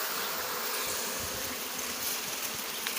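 A swarm of bees buzzes in a dense, steady hum, loud and continuous throughout with no pauses.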